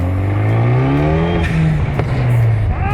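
A tuned car with a crackle tune roars close and loud as its revs fall away, ending in a few quick sharp pops and cracks from the exhaust.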